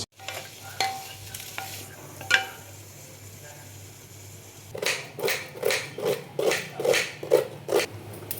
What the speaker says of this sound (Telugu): వీటిని ఇప్పుడు నేను ఫ్రై చేయబోతున్నానండి